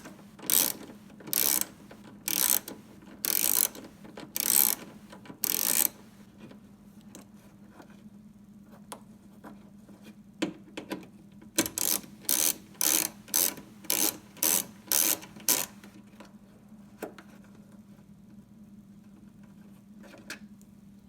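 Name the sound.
7mm socket ratchet removing upper headlight screw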